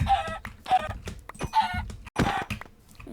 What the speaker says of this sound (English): this one's a chicken. We'll go ahead and kill him.